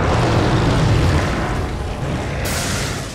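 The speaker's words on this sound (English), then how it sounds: "Oh, the special rocket launcher." A special rocket launcher fires in Resident Evil 4 with one loud, deep boom that rolls into a long rumbling tail and stays strong to the end.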